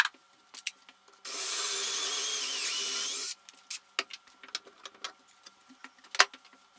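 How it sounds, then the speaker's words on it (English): Power drill boring a hole through clamped wooden bench frames for a dowel: one steady whining drill run of about two seconds, followed by scattered knocks and handling taps of the wood. "then I'll go ahead and drill a hole through the end and put my dowel in"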